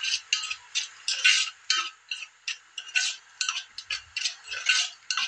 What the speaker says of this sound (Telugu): ఇవన్నీ బాగా కలుపుకోవాలి.